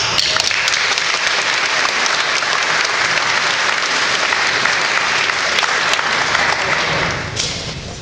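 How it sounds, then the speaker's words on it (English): A crowd at a rail advocacy rally applauds loudly and steadily, dense continuous clapping that fades out near the end. "Applaud yourselves."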